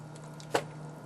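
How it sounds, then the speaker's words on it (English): A single soft, wet squish as moist chilaquiles sauce is poured over chips, brief and close against a faint steady hum. "what we're going to do is go ahead and just kind of pour that on there"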